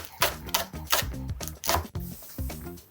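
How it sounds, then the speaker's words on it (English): A knife chops thinly through green onions, whites and greens together, with about six crisp separate cuts against a board, each one close and distinct. "I'm going to try to cut them really nice and thin all the way through"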